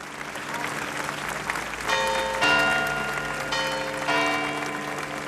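Long applause at a funeral as a white coffin is carried up the church steps, sustained clapping from a crowd, with bell-like tones ringing through it.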